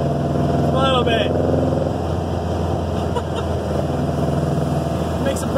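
A steady, loud 1956 VW Beetle engine rumble drones throughout, with a voice talking over it.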